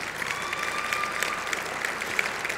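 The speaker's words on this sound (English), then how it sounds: "One more round of applause for all of our finalists," Steady, even applause from a gala audience honoring award finalists, a dense wash of many hands clapping with no break, moderately loud and alone.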